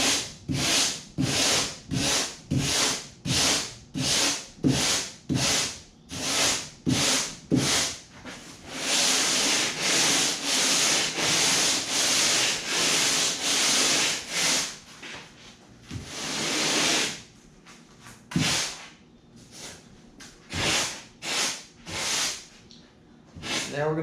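Abrasive sanding rounds the edges of a homemade 11 ft foam and fabric kayak: quick rhythmic rasping strokes, then a steady stretch of continuous scrubbing, then more short strokes, all close and fairly loud.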